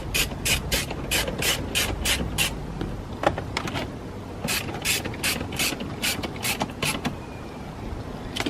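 Ratcheting screwdriver driving a screw into a Lexus SC430 interior panel, rapid bursts of crisp close clicks in repeated strokes with brief pauses between them, no talk.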